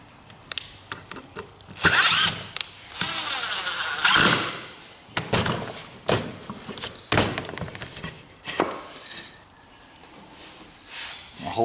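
A power drill drives a screw into a wooden wall bracket in a workshop, giving several bursts of whirring that stop and restart between quieter gaps, close and fairly loud.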